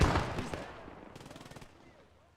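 Machine guns in the World War II shooter Post Scriptum fire an opening heavy burst and then a rapid, steady rattle of automatic fire that fades toward the end, sounding fairly distant.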